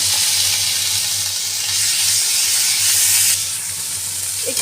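Onion and capsicum frying in a pan with garlic paste and ginger paste, giving a loud, steady hiss of sizzling oil that runs unbroken throughout with no voices.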